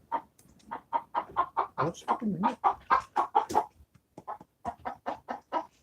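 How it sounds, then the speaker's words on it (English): A chicken clucks loudly and close, in a rapid run of repeated squawking calls that pause briefly and then resume, with a voice speaking over part of it. "That's not my chicken making all that racket."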